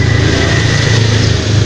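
Busy street traffic on Jalan Urip Sumoharjo in Kebonpolo, Magelang, a steady close wash of car engines with a faint rev, continuous and loud with no pauses.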